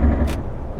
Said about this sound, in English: listen to how loud this engine is